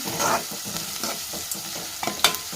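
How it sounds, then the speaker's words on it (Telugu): Onions frying over high flame are stirred in a pan, with a continuous sizzle broken by several scraping strokes of the spoon, close and fairly loud, with no talking. "ఇలా కలుపుతూ ఉంటే అవే మంచిగా గోల్డిష్ కలర్లోకి వచ్చేస్తాయి"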